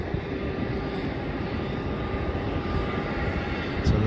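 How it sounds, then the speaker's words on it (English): A Virgin Australia airliner taxiing at Melbourne Airport gives a steady, continuous jet engine roar and whine, held at an even level throughout and heard alone at moderate distance. "Virgin Australia taxiing now"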